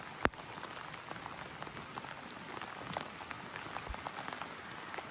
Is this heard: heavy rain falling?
yes